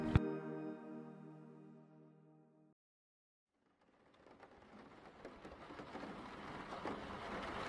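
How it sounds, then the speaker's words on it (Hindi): Heavy unseasonal rain falls steadily, building from a hush into a dense, loud wash, with a brief chime-like tone at the start before a pause. "बिन मौसम बरसात"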